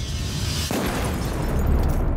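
Explosion set off by robbers blowing open a bank to take cash during a Brazilian town-takeover heist, heard as a loud, deep boom that swells into sustained broadband rumble.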